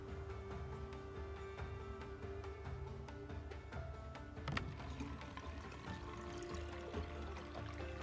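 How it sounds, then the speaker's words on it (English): Gasoline pours from a fuel can into a generator in the survival video game Project Zomboid, a steady liquid gurgle and splash lasting several seconds over a low background drone, with no talking. "Let's just fill the generator real quick."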